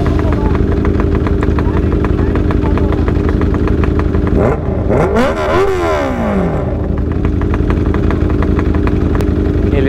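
A superbike fitted with an Arrow exhaust rumbles loudly and steadily at a night-time junction, with a rising rev sweep around the middle. Voices talk over the engine noise.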